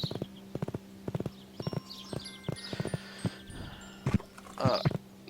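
Hooves of a video game horse clip-clop in a steady rhythm at moderate volume, with a faint whinny and a few short effect sounds mixed in, and no talking.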